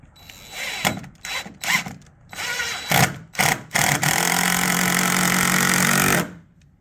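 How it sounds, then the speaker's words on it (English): Screws driven into a replacement door jamb with a power driver: several short whirring bursts, then one sustained run of about two seconds, loud and close with no talk. "he's going to finish screwing this down"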